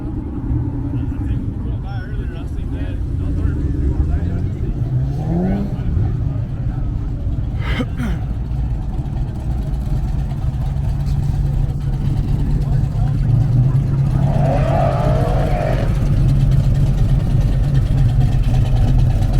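Corvette with T-tops idling and revving at an outdoor cars-and-coffee show, a steady close engine drone with a couple of rising revs over a continuous crowd murmur and nearby talk.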